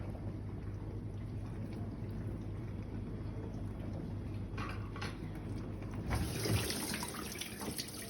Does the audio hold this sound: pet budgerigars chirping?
no